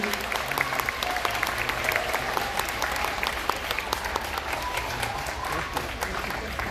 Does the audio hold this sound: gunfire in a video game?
no